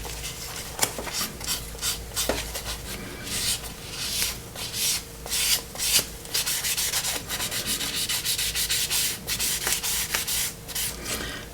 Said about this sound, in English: I am sanding a bit more